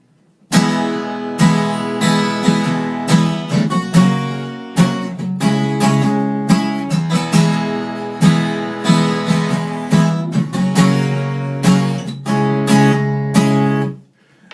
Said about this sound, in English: when you play it with bar chords, it sounds like this